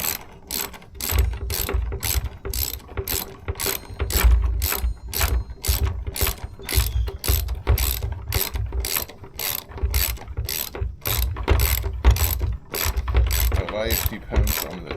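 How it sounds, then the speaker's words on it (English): A ratchet clicks steadily as it tightens a bolt on the suspension of an iENYRID M4 Pro S electric scooter: a long run of rapid, evenly spaced pawl clicks, close and fairly loud, with no talking. "Just tighten the bolt"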